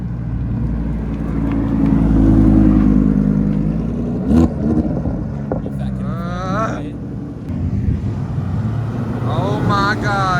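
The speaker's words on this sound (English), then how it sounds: "That's not a cat, buddy, that's a Lambo." A Lamborghini's engine revs loudly at a crowded car meet, a deep swelling roar building over the first few seconds and then settling, with people talking and shouting nearby over the engine noise.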